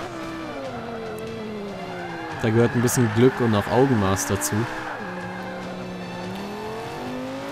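Lamborghini Gallardo drifting in the racing game Forza Motorsport 5, a steady engine drone that bursts into wavering revs and squealing tires mid-slide, with someone talking over it throughout.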